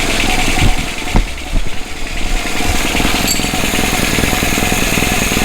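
A carbureted engine with freshly cleaned jets and an adjusted metering rod idles roughly without choke, giving a loud, close, uneven chugging and rattling that never settles into a smooth beat.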